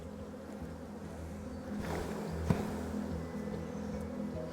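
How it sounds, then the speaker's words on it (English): Honey bees hum at a hive frame bearing swarm cells, a faint, steady low buzzing throughout with one brief louder rise near the middle. "this one here has swarm cells on it."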